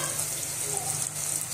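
Onion frying in hot oil in the pan used for chicken sukka, a soft continuous sizzle with light stirring, fairly quiet and steady.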